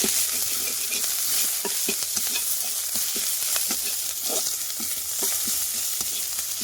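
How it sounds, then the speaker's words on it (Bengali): Chopped onion and garlic sizzle steadily in hot oil in a kadai, with repeated scraping and clattering stirring strokes close by and no talk. "এবার সেই কড়াইতে দিয়ে দেবো একটু পেঁয়াজ রসুন কুচি ওগুলো একটু ভালো করে নাড়াচাড়া করে"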